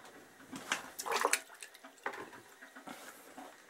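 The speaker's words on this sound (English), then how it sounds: "Next thing I need to do is transfer this into a bucket of cold water and just give it a brush down." A brake caliper part from a 1977 Kawasaki KZ650 motorcycle is lowered into a bucket of cold water, giving quiet close splashes and sloshing bursts in a few irregular clusters, then fading to small drips and knocks.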